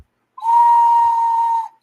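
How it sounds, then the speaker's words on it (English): A handmade Mexican death whistle is blown once, giving a single loud, close, shrill sustained tone that holds steady for about a second and a half before cutting off, with nothing else heard. "And I got a death whistle. This is totally handmade."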